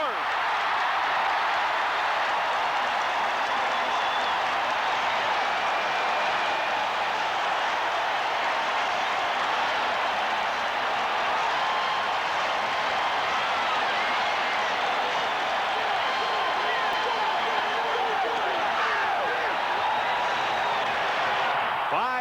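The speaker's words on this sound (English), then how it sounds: "Foot 7-inch Gizmo Williams electrifies the crowd." A stadium crowd at a 1987 CFL game roars for a touchdown, a dense, sustained wash of cheering that stays loud and continuous throughout, with a commentator's voice over it.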